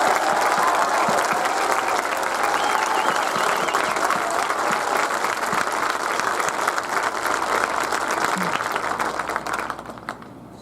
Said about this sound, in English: let's instead give a loud round of applause to congratulate the nursing students